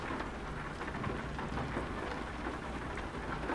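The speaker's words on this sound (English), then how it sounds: "You can really hear that rain" Steady, dense rain drums on a truck cab roof in the video game Euro Truck Simulator 2, heard from inside, a continuous close patter with no talking.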